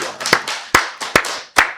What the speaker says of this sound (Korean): 우리 박수로 하나님께 영광 드리겠습니다